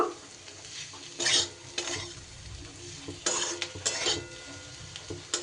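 Spiced potato pieces fry in a pan while a utensil stirs them, giving repeated scraping bursts over a steady soft sizzle with no talking.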